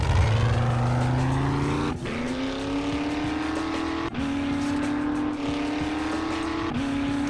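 A vehicle in the game 7 Days to Die drives and accelerates; a loud engine revs up through several gear shifts, each climb cut by a brief dip, steady and close, with no talk.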